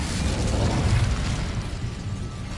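Incendio fire spell cast in a Harry Potter video game, a dense roaring burst of flame that swells quickly, rumbles at close range for about a second, then thins into a steady crackling hiss.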